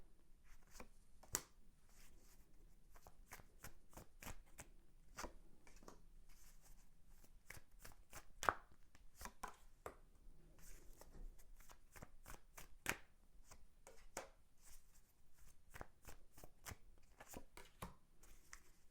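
Tarot cards being shuffled by hand, a long run of soft, close riffling snaps and slaps that come in uneven bursts and pauses, fairly quiet throughout, no speech.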